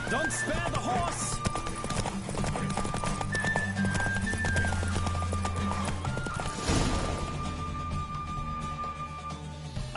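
Rapid hoofbeats of a galloping horse in The Witcher III: Wild Hunt pound steadily throughout, with a brief whinny, mixed with game music and a voice speaking over the action.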